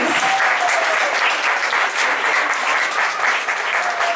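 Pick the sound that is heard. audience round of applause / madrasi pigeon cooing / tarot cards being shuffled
audience round of applause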